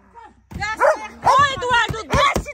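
A dog barks near a farm property, several sharp loud barks in quick succession while people speak over and between them.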